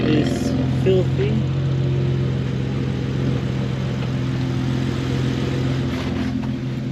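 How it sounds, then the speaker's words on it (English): A repaired car engine idling steadily with a smooth, continuous low hum, close by, with faint background noises and brief human sounds over it. "So I think now the idling is a lot smoother"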